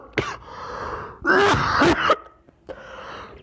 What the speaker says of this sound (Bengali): ভাই অত্যাধিক কাশি।